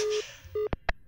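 Short electronic tone pulses as a phone call is hung up in the horror game Is Simon There?, two brief beeps followed by two clicks, faint and close.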